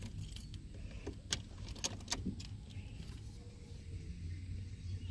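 A Ford Focus key ring jangles softly as the ignition key is turned to the on position, with a few light metallic clinks over a low, steady background hum.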